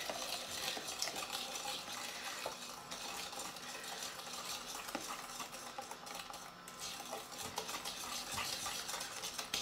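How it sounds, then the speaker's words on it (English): A small hand whisk stirs chocolate ice cream custard in a bowl, a steady rapid scraping and ticking of wire against the sides that continues alone and fairly close for the whole stretch. "I'm not going to use my electric whisk for the moment, just using this little hand"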